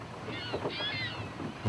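Motorboat crossing Lake Chiemsee, a steady broad rush of water and wind on the microphone, with faint higher tones drifting in and out, continuous and fairly close.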